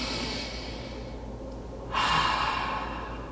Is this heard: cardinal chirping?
no